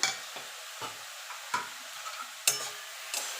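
A spoon stirs radish ghonto with chillies and fried lentil nuggets in a pan, a soft frying sizzle underneath and sharp scraping clacks of the utensil against the pan at irregular intervals.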